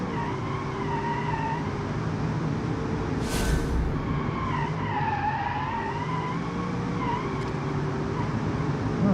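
A car braking hard from high speed in BeamNG.drive, with tires skidding and squealing over a steady engine and road roar that holds throughout, plus a brief sharp burst partway through.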